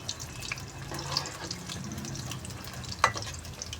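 Aloo pakoras, potato fritters, frying in oil: a steady, soft bubbling hiss fills the clip with a couple of faint utensil taps, close but quiet, with no talking.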